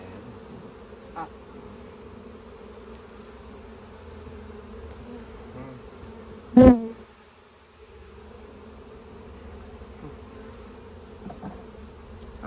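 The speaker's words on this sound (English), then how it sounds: "Hold on, I see bees." Honeybees hum around an opened hive during a hive split, a continuous low buzz throughout with one sharp, loud knock or bump midway.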